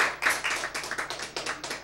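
A small audience claps to welcome a speaker: sparse, distinct hand claps in an uneven rhythm, fairly close and moderately loud, with no talking.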